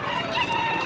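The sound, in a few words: chickens at a village market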